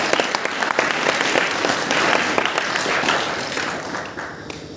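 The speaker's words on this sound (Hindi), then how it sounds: "अब बैठिए ताली बजाइए मास्टर साहब के लिए" Audience applause for a teacher at a Hindi-language religious gathering, dense and steady clapping from a crowd over nearly five seconds, fading slightly at the end.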